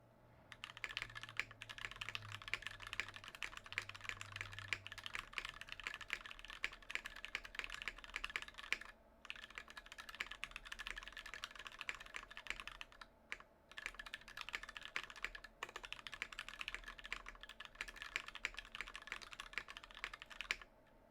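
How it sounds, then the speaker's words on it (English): Fast continuous typing on a mechanical keyboard fitted with GMK Merlin keycaps, a dense stream of crisp clacks up close with a few brief pauses, faint background hum, no talking. "How fast can Merlin type on the reference board?"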